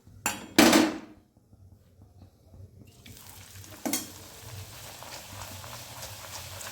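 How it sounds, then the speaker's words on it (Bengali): Pea kachori frying in hot oil in a wok, with two loud sizzling bursts as pieces go in or are turned, followed by a steady, quieter crackle of frying. "প্রায় ভাজা কমপ্লিট হয়ে আসলো"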